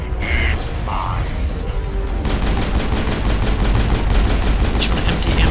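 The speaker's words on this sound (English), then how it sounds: "Just want to empty ammo into him as much as possible." Rapid automatic gunfire from the Mass Effect 1 battle against Sovereign, a dense, continuous stream of loud shots that starts after a brief stretch of game sounds and runs steadily to the end.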